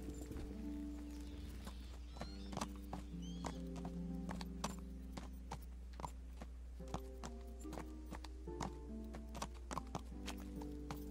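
Horse hooves clip-clop in the medieval video game Kingdom Come: Deliverance, sharp irregular hoofbeats over a low steady hum with a faint horse whinny, no talk.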